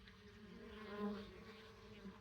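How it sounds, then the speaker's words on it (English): Honey bees flying back to an Apimaye hive with pollen in the afternoon, giving a faint, soft, close buzzing that swells slightly and then fades. "This is the afternoon crew bringing in the last bit of pollen for the day."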